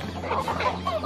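Several chickens cluck softly and busily nearby, short overlapping calls over a low background hum.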